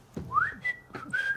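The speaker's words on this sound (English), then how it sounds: "So you were whistling after you'd had your go as well?" A person whistles aimlessly with no tune, a few short, faint rising and held notes in quick succession.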